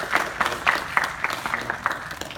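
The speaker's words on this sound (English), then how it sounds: "So everybody, a big round of applause" A small group at a Brazilian jiu-jitsu gym claps for a purple belt promotion, a brisk, fairly loud, steady run of claps with no voices over it.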